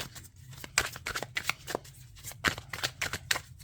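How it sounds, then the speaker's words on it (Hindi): A deck of tarot cards being shuffled gives a close run of quick riffles and snaps in short bursts with little pauses between them. Nobody talks. "अब मैं शफल कर लेती हूँ"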